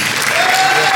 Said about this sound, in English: Give a collective hand.